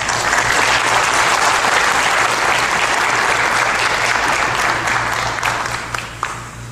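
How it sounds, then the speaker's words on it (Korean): A church congregation applauds to welcome a guest speaker, loud, dense and sustained clapping with a steady low hum underneath, thinning out toward the end with a few last claps. "소개사님 나오실 때 우리의 박수로 환영하도록 하겠습니다"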